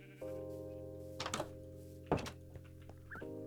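Minecraft sheep bleat repeatedly on a wool farm in the video game, wavering calls layered over steady background tones and punctuated by two dull thunks, one around the middle and a louder one later.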